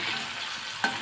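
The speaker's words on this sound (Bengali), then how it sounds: "তাই জন্য আমি সাথে একটু নুন দিয়ে ভাজছি আলুটাকে, তাহলে তেলটা ছিটকাবে না।" Potatoes frying in oil with a little salt added, a steady soft sizzle with a brief stirring scrape near the end.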